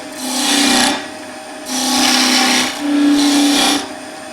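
Three sustained rasping cuts of a skew chisel scraping V-grooves into spinning wood on a lathe, each lasting about a second with short pauses between, close and fairly loud with no talk.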